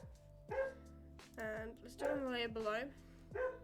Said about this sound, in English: Sorry, that's my dog if you can hear him.